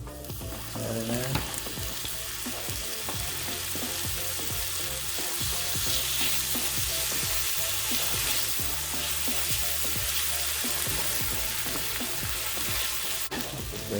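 Garlic fries in a frying pan beside shrimp and tomato sauce cooking, giving a steady close sizzle with light stirring clatter throughout and no talk.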